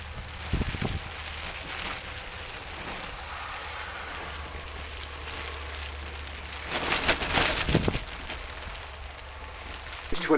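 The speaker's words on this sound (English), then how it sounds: "Hammering it down with rain." Heavy rain falls at a night wildcamp under a tarp in winter, a steady dense hiss with a few louder bursts of drumming and wind gusts.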